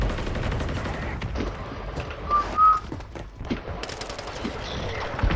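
Video game shotgun blasts crack out in a dense run of rapid gunfire bursts, loud and close, with a couple of sharp whistling tones in the middle.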